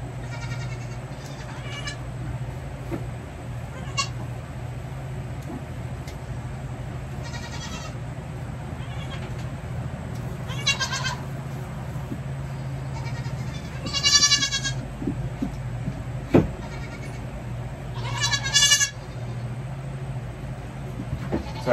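Baby goats bleat in short, wavering bursts, several calls spread across the stretch and growing louder and more clustered toward the end, over a steady low background hum.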